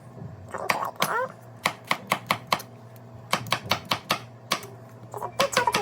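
A knife cuts a tomato into quarters on a cutting board while making bacon pasta, with rapid sharp chops in quick runs and a voice talking between them.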